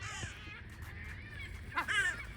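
A crow in a spring coastal setting gives a few harsh caws, one near the start and a louder pair toward the end, fairly close amid quiet outdoor background.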